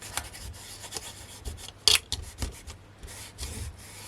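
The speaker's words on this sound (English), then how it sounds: "use a microfiber cloth and just get it nice and wet, and then all you do is rub over the top." A wet microfiber cloth is rubbed over dot art in short, soft scrubbing strokes, quiet and close, with one sharper scrape partway through and no talking.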